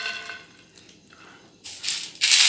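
Boiled water poured from a microwave-heated vessel over soaked kidney beans (rajma) for soup, a quiet drip at first followed by two short, louder bursts of splashing pour near the end.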